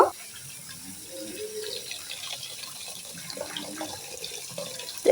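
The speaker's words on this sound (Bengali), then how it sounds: "শাকটাকে এখন আমি এভাবে ধুয়ে ভালো করে কয়েকবার ধুয়ে পরিষ্কার করে নেব" Red amaranth greens are washed under a running tap into a sink, with a steady, fairly quiet flow of splashing water that continues throughout with no voices.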